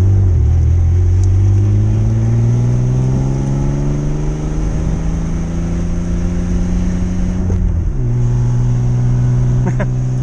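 Truck engine accelerating onto a freeway, a loud, close, steady drone whose pitch climbs gradually, then drops abruptly at a gear change before holding steady again.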